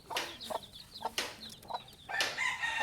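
A protective mother hen clucks in short, sharp bursts near her chicks, a series of close calls with a louder, more insistent stretch at the end.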